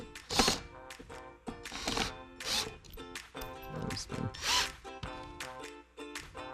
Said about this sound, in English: So we're going to drive the screws in.